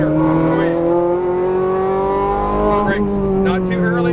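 A Ferrari 430 Scuderia on the Exotics Racing track in Las Vegas pulls hard, its engine note rising steadily in a loud, sustained wail close by, while an instructor talks over it.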